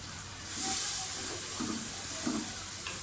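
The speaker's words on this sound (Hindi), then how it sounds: "मसाला हमारा भून के साथ ही इसमें दाल डाल दें। दाल की थोड़ी सी भुनाई करें तकरीबन 5 मिनट।" Moong dal roasting with masala in a pan, a steady close sizzle and hiss with soft scraping from stirring at intervals.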